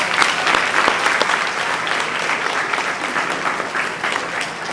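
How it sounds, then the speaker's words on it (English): Steady applause from an audience at an 8th grade stepping-up ceremony, honoring teachers, staff and parents; dense, even clapping sustained throughout without speech. "If we can give a round of applause"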